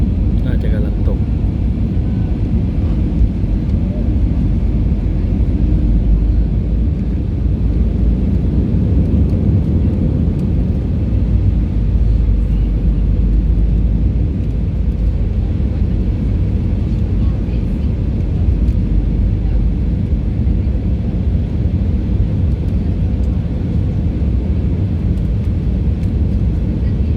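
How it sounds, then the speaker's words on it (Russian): Steady, loud airliner cabin roar during descent through a snowstorm into a Moscow airport, a constant broadband rumble throughout with no break. "กำลังจะล่อนลงที่สนามบินมอสโกข้างล่างหิมะตก"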